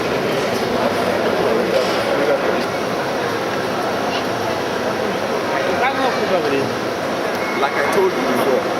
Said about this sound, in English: this is the heart of the Bahnhof. The Central train station is the center.